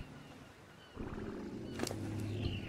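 A herd of stegosaurus in the video game Ark rumbles outside a house, low droning calls and growls rising in the second half, fairly close and continuous under a steady background.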